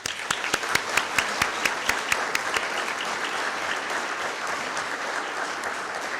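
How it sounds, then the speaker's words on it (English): An audience at an alumni awards ceremony applauds a School of Education Hall of Fame inductee, with sustained crowd clapping and a run of sharp, close individual claps standing out over it early on. "May we have one more round of applause for our 2020 inductees of the School of Education Hall of Fame."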